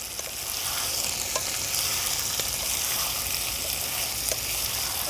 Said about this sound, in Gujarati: બટેકાને આપણે સહેજ ગોલ્ડન બ્રાઉન થવા દઈશું.